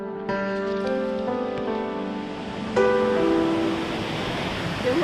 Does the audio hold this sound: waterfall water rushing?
yes